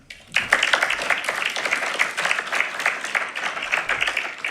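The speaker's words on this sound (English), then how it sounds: "please, folks, another round of applause for our law enforcement LAPD" An audience at an LAPD Jewish symposium applauds for a police speaker, a dense, sustained round of clapping from a crowd that starts abruptly and holds steady.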